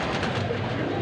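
Pigeons kept for sale, cooing softly and continuously at close range, a low, muffled murmur with no voices.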